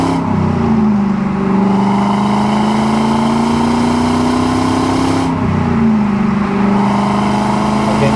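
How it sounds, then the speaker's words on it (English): A 1998 Pontiac Trans Am WS6 V8 engine drones steadily and loudly, its pitch climbing as it accelerates, drops sharply at a gear shift, then rises again. "Just hear the motor, you don't really even hear the exhaust"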